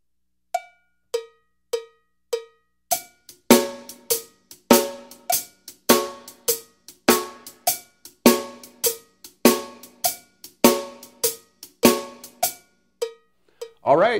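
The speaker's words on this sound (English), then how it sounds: "Next, let's bring in the snare drum." Blues shuffle played on a drum kit: a lone steady cymbal or hi-hat pattern, then loud crisp snare hits join on the backbeat and the groove keeps an even swung pulse throughout.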